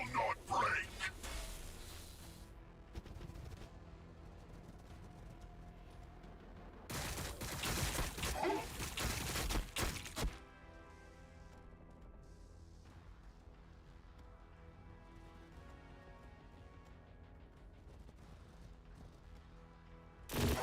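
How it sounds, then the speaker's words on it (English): Tyranid spine fist gunfire crackles in Warhammer 40k: Battlesector as two dense, loud bursts of rapid shots, one at the start and one in the middle, with voices talking and quieter battle ambience between them. "What are those, spore shotguns or something? Yeah, spine fists."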